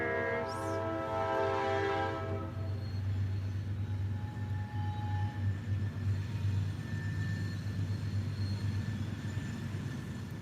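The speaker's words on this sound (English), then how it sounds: "Can y'all hear the train?" A freight train rumbles past nearby, opening with a loud horn blast, then a steady heavy roll of wheels on rails with occasional squeals, continuous throughout.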